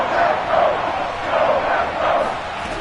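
A stadium crowd in a Madden football video game roars and chants near the goal line, a loud swelling wash of many voices rising and falling in waves with no clear break.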